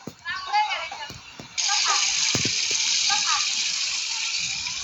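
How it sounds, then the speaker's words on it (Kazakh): Shower water running in the video game Hello Neighbor, a steady loud hiss that switches on partway through and continues alone after a voice talks over the first part. "Сосед душ қойған."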